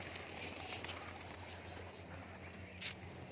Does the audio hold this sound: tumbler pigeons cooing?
yes